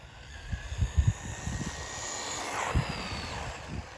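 A Wltoys 144001 RC buggy motor runs at speed, around 30 miles an hour, with a whining buzz and uneven bursts that rise and fall as the car passes, moderately loud.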